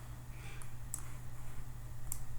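A computer mouse gives a few faint, sharp clicks, spaced irregularly over a low steady hum in a quiet room.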